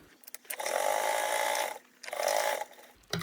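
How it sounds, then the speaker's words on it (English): A sewing machine top-stitches the long edges of a tote bag in two close, steady bursts of rapid whirring, a longer run followed by a shorter one after a brief pause. "we're going to top stitch both ends with both sides"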